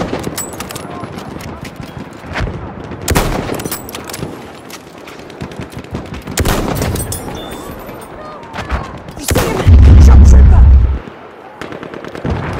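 Machine-gun fire in the Battlefield 1 video game, with loud bursts of rapid shots and heavy blasts spread across the clip, the strongest sustained burst near the end. Voices shout in the battle.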